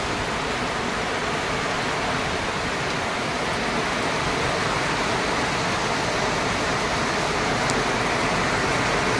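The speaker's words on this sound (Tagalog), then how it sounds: "Grabe ang ulan ngayon." Heavy rain pours down in a steady, dense roar with no breaks, loud and close, with no voices.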